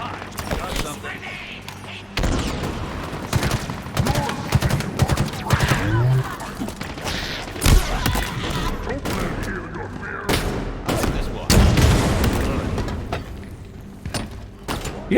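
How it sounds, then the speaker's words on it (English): Rapid, dense gunfire in the video game Halo Infinite, including shotgun blasts, loud and nearly continuous, with game effects and voices mixed underneath. "You get a lot of shotguns in this game."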